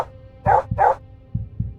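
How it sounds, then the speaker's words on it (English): A dog barks twice in quick succession, loud and close, followed by two softer low huffs against a quiet room background. "throwing my arms around my dog and pulling him close, even as Petey starts to bark"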